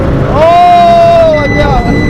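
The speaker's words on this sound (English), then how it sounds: "Let's see if we can do the rolling anti-lag." Twin-turbo Gen II Audi R8 doing a rolling anti-lag launch, a loud close engine note climbing in pitch for about a second before easing off, with wind and road rumble underneath.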